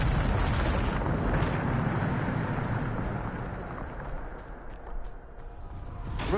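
A Bombarda spell explosion in the Hogwarts Legacy video game: a loud, broad rumbling blast that starts at full force and slowly fades over several seconds, with no talk over it.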